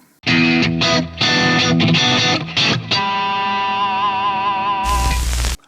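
Heavily distorted electric guitar dialed in for a modern EVH-style tone, loud and up close, playing chopped chords and then a sustained ringing note with vibrato before a burst of noise at the end.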